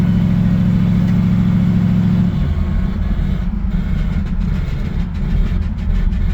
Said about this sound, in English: That drum is still dragging. Something's loose in the front of it.